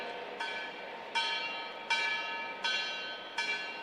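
A ceremonial bell at a live social leadership program event rings in five evenly spaced strokes, each with a ringing metallic tone that hangs on until the next, moderately loud with no voices.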